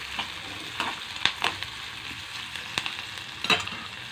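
Green chillies for a brinjal curry fry in hot oil with a steady close sizzle, punctuated by several sharp spoon scrapes and stirring clatters against the pan.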